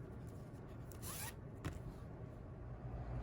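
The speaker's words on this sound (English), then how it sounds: "if you zip it up, if the zipper tape kind of turns in on itself like so" An invisible zipper on a skirt zipped up during sewing, one quick close rasping pull followed by a small click, faint over a steady low background hum.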